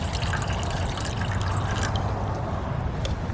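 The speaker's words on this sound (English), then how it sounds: "So, we're gonna add some water in here." Water poured steadily into a cooking pot at an urban lean-to camp, a continuous close splashing gush with no pauses and no talking.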